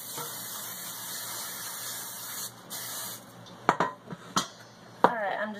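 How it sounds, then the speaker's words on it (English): A steady hiss of cooking spray onto a pan runs for a few seconds, then stops, followed by a few sharp clicks and clatters nearby. "I'm just using a normal cooking spray."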